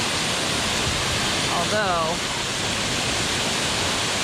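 Dry River Falls pours in a steady, close, broadband rush of falling water, with a brief spoken word partway through.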